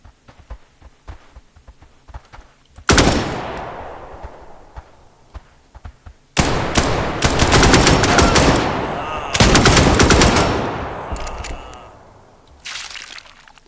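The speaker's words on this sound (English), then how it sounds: "From somewhere there was a shot." Gunfire in a scrapyard in the video game Scavland, heard as loud sudden broadband bursts with sustained noisy rushes after faint background clicks.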